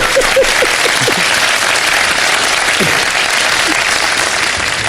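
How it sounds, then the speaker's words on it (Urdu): Steady studio audience applause fills the whole stretch on a live Ramadan iftar TV show, a dense continuous clapping with a brief voice or two poking through early on. "چلے جناب, بہت ساری تالیاں"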